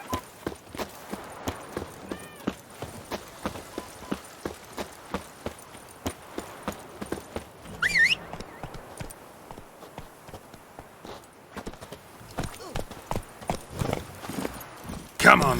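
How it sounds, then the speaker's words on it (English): In The Witcher 3, a horse's hooves clip-clop in a quick, steady rhythm throughout. Short snatches of speech and a brief whooshing effect come over the hoofbeats. "Come on, Roach."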